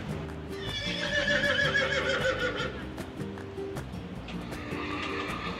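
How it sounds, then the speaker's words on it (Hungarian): Andalusian horses at a horse festival parade in Seville, Spain, with repeated whinnies and steady clip-clopping hooves over a continuous crowd and street din, no clear talk. "A híresen szép andalúz lovak."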